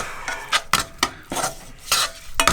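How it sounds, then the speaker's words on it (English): A spoon stirs food in a bowl, with repeated clinking and scraping strokes in an uneven rhythm, close and fairly loud. "You have to spoon or handle it. Spoon. Mix that about. Mix it all up."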